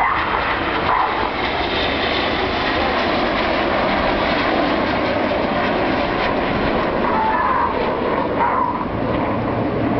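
RAF Red Arrows jets flying a rollback manoeuvre at Bournemouth Air Festival give a continuous broad roar that holds steady throughout, distant and airy, with no talk over it.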